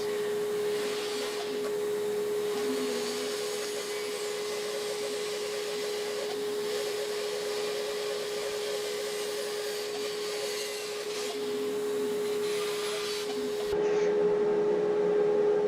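A bandsaw cuts the profile of a wooden banana at a higher speed, a constant motor whine with a rougher cutting layer over it, steady throughout and alone without talk.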